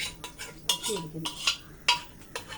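A utensil stirs rice and green gram payasam in a pot, giving several uneven scraping clinks against the metal, close by and moderately loud.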